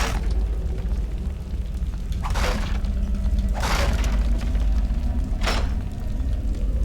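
Cannon fire in Baldur's Gate: Dark Alliance: three separate booming blasts with broad crackling bursts, well spaced, over a steady low rumble of game ambience, no voices.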